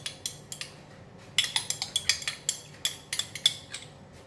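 Oyster, tomato, chili and dark soy sauces are mixed together in a bowl with a utensil, producing a series of bright, close clinks and taps, sparse at first and then quicker and more regular.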